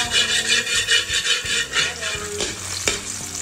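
Garlic frying in a pan for Filipino fried rice, a steady close sizzle with scraping and stirring against the pan throughout, with no talk.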